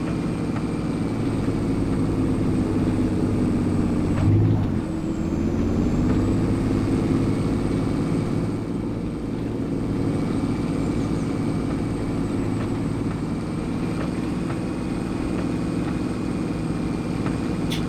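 A farm tractor runs in low range with a steady, rumbling engine drone that barely changes for nearly eighteen seconds, apart from a brief surge early on.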